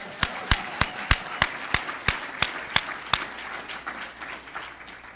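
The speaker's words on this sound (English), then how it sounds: "Thunderous applause." Audience clapping at a university event on the 2012 election, close sharp claps in a steady rhythm that thin out and fade over a few seconds, with no talk over them.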